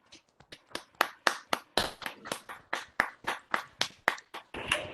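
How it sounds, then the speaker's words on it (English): Scattered claps from an online audience cheering talent hunt participants, with a few dozen sharp hand claps coming in uneven bursts, several people slightly out of sync, growing a little busier toward the end. "join us in applauding for all the participants"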